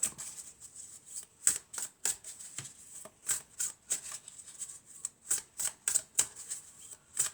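Oracle cards shuffled by hand at close range: a run of crisp, rapid riffling bursts in a steady rhythm, separated by short pauses, quiet and alone with no talking.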